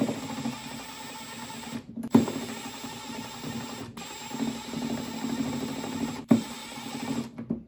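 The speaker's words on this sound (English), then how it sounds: "Drive the rest of the screws in." A cordless drill drives screws into a backing plate for a charging tool-case mod, giving a steady whirring, ratcheting mechanical run near the mic that breaks off briefly at three points before starting again.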